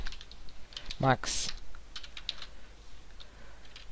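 Code is typed on a computer keyboard in quick bursts of close, crisp key clicks, with a short spoken word partway through.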